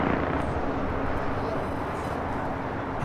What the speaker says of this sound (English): This is United 38 coming in from Tokyo, Haneda on a 1-year-old 787-10 Dreamliner.